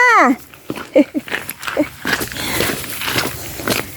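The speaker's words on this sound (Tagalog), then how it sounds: "Tumatahol na po sila." Dogs on a farm bark and yelp in short bursts between voices, close and fairly loud, with a high wavering whine at the start and some footsteps.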